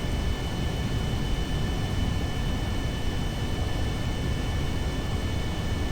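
Boeing 747 engines in flight in a video game, a steady, broad whooshing drone with a faint high whine running underneath, constant and unbroken with no talking.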